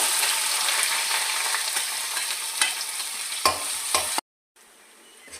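Chopped onions with whole cumin and dried red chili fry in hot oil, a loud steady sizzle with a few scraping clinks of the spatula before it cuts off abruptly to quieter frying, no talk.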